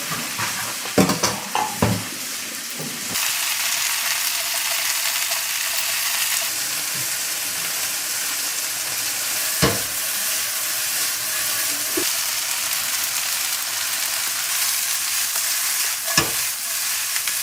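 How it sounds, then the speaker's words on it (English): Battered food with garlic fries in hot oil, a loud, steady sizzle close by with a few sharp clatters of stirring utensils breaking through now and then. "So he's kind of frying."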